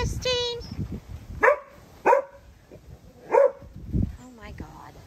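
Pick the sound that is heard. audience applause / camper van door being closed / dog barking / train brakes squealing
dog barking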